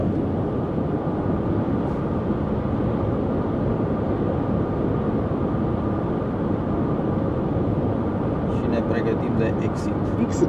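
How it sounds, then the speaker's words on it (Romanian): Steady wind and road roar inside a 2020-generation Dacia cruising at 110 km/h on a motorway, a constant broadband rush with no break. "Aici la 110 se aud zgomote de vânt."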